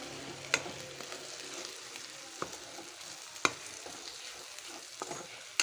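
Bitter gourd curry with coconut powder stirred in a pan, a soft frying sizzle under sharp, sparse scrapes and clinks of the spoon against metal.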